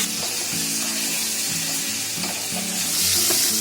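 Vinegar hits a hot pan of cumin-fried potatoes, giving a loud, steady hiss that lasts throughout with small crackles and spatters close to the pan.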